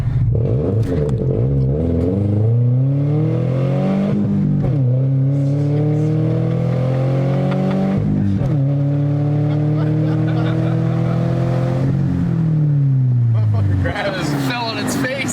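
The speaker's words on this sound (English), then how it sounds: "See if we can do a launch and not burn the clutch out this time." A Subaru Legacy with a newly installed clutch launches hard: loud, close engine revs climb repeatedly through several pulls, each sweeping up then dropping between shifts.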